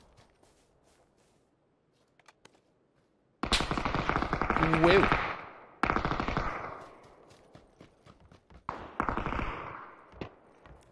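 Bursts of M249 machine gun fire from a PUBG match crack out in sustained rapid volleys, with shorter staccato bursts that follow and short gaps between them. A player exclaims briefly over the gunfire.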